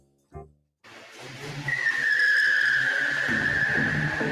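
A car's tires squeal in a long, rising skid under hard braking, preceded by a short thump, loud and sustained with engine rumble underneath.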